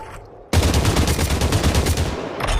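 Gunfire in the VR battle royale Population: One: after a quiet moment, a loud, close, sustained automatic burst erupts and rattles continuously for about two seconds before cutting off.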